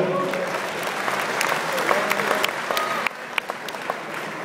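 Audience applause at an event in Lausanne, a dense steady patter of many hands clapping at moderate distance, with scattered voices and a few whistles mixed in.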